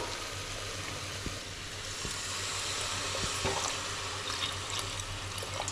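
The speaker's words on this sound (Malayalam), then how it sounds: "നമുക്ക് വെള്ളം ഒഴിക്കണം." Water poured into a simmering chicken curry on a home stove, a steady close splash and gurgle over a low sizzle for several seconds, with no voices.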